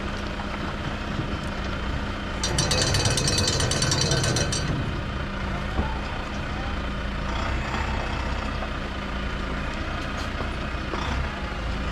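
A livestock truck carrying weaned lambs pulls away down a farm drive, its engine a low steady rumble throughout, with a brief rattling clatter early on and faint intermittent background noise as it moves off.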